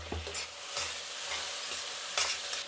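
Onions and tomatoes frying in a pan for egg dum biryani, a close, steady sizzle with soft stirring scrapes and no voices.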